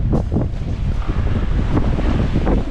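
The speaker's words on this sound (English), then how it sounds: "Wind's come a little forward of the beam now, so it's gotten a little choppy." Wind buffeting the microphone over a choppy sea while sailing forward of the beam on a passage from the Marquesas toward the Tuamotus, steady and loud with broadband roar and wave wash throughout.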